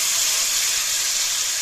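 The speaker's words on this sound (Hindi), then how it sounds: "जीरा हमारा चटकने लगा है" Cumin seeds crackle and sizzle in hot oil in a pan, a steady, dense frying hiss with fine popping throughout and no talking.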